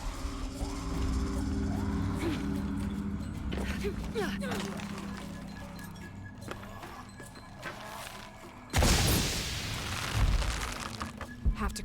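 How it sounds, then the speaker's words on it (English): A single loud, sudden explosion in Tomb Raider bursts out late in the scene after a stretch of quieter ambient game sound, followed by a lingering rumble. "Have to create an explosion."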